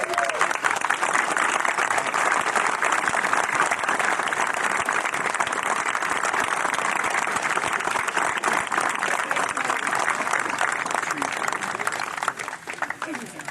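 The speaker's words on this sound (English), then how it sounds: "How about a round of applause?" A crowd at a Battle of Gettysburg 158th anniversary event breaks into sustained, loud applause, dense clapping that holds steady for over ten seconds before tapering at the end, with some voices mixed in.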